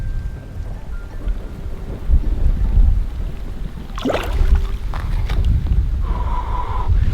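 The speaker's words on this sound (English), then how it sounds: "It looks like now it's raining hard again." Heavy rain pounding a fishing boat in stormy weather, a loud, steady dense hiss and patter with low rumbling underneath, plus some brief close knocks and clatter partway through.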